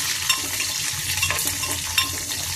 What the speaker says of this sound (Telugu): పచ్చిమిర్చి కూడా వేస్తున్నాను. ఇంకో ఫ్లేవర్కి కొంచెం కరివేపాకు కూడా వేసానండి.